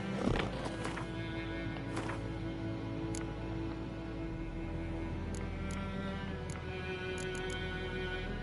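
A horse in The Witcher 3: Wild Hunt gives a loud whinny right at the start, then stays close by amid faint ambient game sounds and occasional light clicks.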